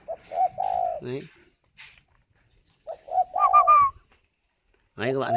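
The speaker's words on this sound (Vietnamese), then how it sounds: "Chim nó ấp nó vẫn gù bình thường" Spotted dove cooing while sitting on its eggs, a few soft, low repeated coos in short bursts with quiet gaps, close and clear with no talking.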